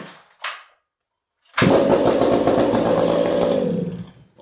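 A chainsaw engine catches after a brief pull and roars into a loud, steady idle-to-rev drone for a few seconds before dropping off, heard up close with no talking.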